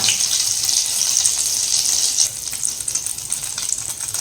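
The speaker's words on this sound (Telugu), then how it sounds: "ఇది మెల్ట్ అయిన తర్వాత హాఫ్ స్పూన్ జీలకర్ర" Cumin seeds crackle and sizzle in melted white butter, a steady bright hiss with dense fine spatters running throughout, close and fairly loud with no talking.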